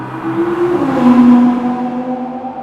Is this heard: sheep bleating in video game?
no